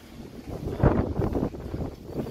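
Moderate wind gusts buffet the microphone outdoors near Mayon Volcano, a low rushing swell that peaks and eases over a couple of seconds with no one speaking.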